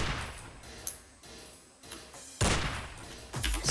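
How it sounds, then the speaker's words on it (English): Shotgun blasts in the action video game Madness Deathwish 2 come as a couple of loud, broad bursts near the end, with fainter clicks and impacts before them. "do we shoot him enough with the shotgun?"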